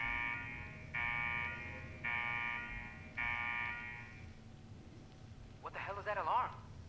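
Alarm going off inside the video game Fallout 4, a loud electronic buzzing tone that pulses in four long blasts. A voice speaks briefly near the end.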